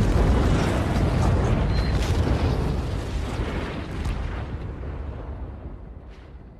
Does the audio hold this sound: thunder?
no